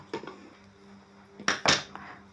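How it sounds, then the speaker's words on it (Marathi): Lid of a pressure cooker being handled and opened after cooking moong dal rice, a few sharp metallic clanks and scrapes standing out from a quiet kitchen, no talk. "तर झाकण उघडून बघूया।"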